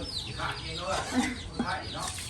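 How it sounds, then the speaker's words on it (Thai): Soft, low hen clucks repeat a few times close by, mixed with background chatter. "ไก่ก็แม่ไก่กินข้าวเย็นเนาะ"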